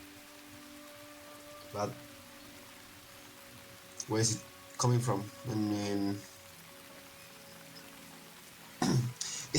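A soft, steady rain ambience plays as a quiet background bed at a tabletop role-playing session in a stormy swamp setting, while several people talk over it in short bursts.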